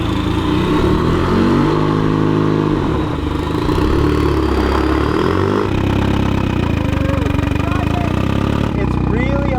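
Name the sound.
Mazda Miata engine running as it is driven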